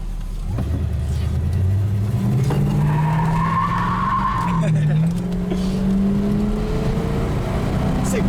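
A 1966 Pontiac GTO engine revs and rises in pitch as it accelerates, a loud steady drone climbing in tone, with a brief tire squeal mixed in.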